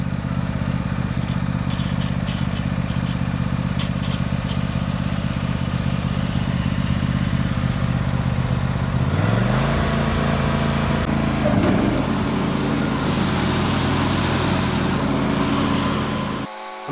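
A John Deere E130 riding mower engine runs steadily up close while the deck is washed with a hose, a loud continuous drone that dips and shifts pitch midway before cutting off at the end.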